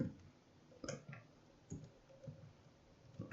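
Quiet typing on a computer keyboard, a few soft, irregular key clicks spaced across a few seconds, close and faint with no talking.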